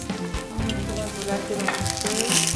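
Steady crackling sizzle of chilies frying in hot lard, close and continuous, with occasional clinks of stirring.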